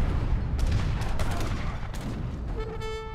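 Cannon fire in the Age of Empires III strategy game, a dense run of overlapping booms and blasts over a continuous battle rumble, close and loud, with a tonal game sound near the end.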